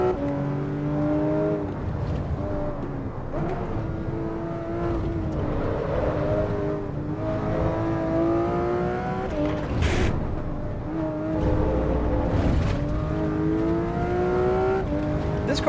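A racing car engine in a driving video game drones throughout, its pitch climbing and falling through repeated gear changes, with brief bursts of revving and tyre noise, loud and steady with no talk.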